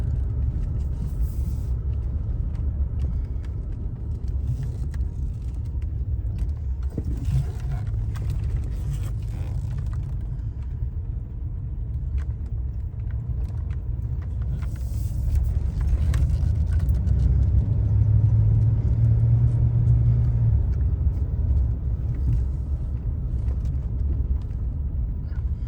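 A 1982 Imperial cruising along, heard from inside as a steady, loud low rumble of engine and road noise that swells slightly partway through, with faint occasional rattles.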